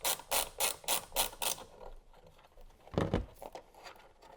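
An 8 mm socket on a ratchet loosens bolts on a Honda Pilot Trailsport during a turn-signal bulb swap, giving about eight quick, loud ratcheting bursts in a steady rhythm, then one heavier clunk after a pause.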